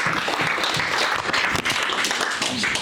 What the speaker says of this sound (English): Let's get a round of applause for the winners this morning.